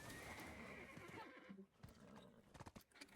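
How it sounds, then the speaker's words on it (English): A video-game horse gives a clear whinny and snorts, then its hooves clop in a quick uneven run, close and fairly quiet, with no talking over it. "Give me my horse. There he is."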